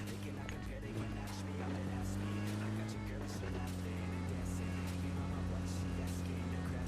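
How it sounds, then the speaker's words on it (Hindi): Vehicle engine in the PUBG Lite video game, a steady droning hum that shifts pitch slightly mid-drive, running continuously and fairly loud with a voice talking over it. "फिर से गाड़ी उठाता हूँ और फिर से निकल जाता हूँ।"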